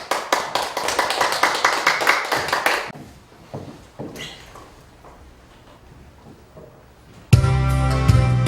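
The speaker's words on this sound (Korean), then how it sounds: "올라오실 때 큰 박수로 맞이해 주십시오." Audience applause at a charity church concert, a dense burst of clapping for nearly three seconds that fades into scattered taps and shuffling before music suddenly begins.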